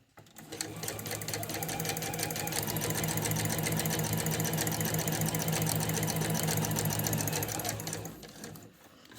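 A sewing machine runs steadily stitching a piped cushion cover, a fast even mechanical whirr that starts, holds for several seconds and winds down near the end.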